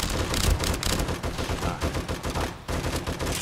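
Rapid bursts of gunfire in the survival video game 7 Days To Die, loud and close, with shots clustered in quick volleys and a brief gap near the end.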